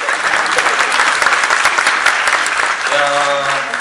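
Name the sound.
audience applause for team member Henri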